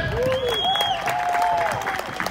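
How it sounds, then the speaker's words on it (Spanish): Applause from the crowd at a rodeo tournament held at Plaza Dos Hermanos in Kilgore, steady and moderately loud, with whistles and a few voices rising over the clapping. "Venga el aplauso para la 11-03"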